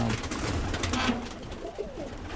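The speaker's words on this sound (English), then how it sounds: "looks like the kit birds are back, almost done." Birmingham Roller pigeons coo and flutter close by in a steady, busy hum of birds, with faint background noise and no clear talking.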